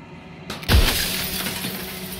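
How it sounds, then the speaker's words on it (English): A mirror in a video game cracks and shatters: a sharp, loud glass break after a brief lead-in, followed by a ringing tail of tinkling shards. "The crack slides down the center of the mirror, splitting the image in the glass in 2."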